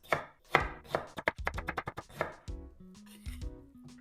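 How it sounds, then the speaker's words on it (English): A knife slicing a Japanese pickled vegetable on a board makes a quick run of crisp, close cutting taps, followed by quieter sustained tones. "Then I'm gonna slice this."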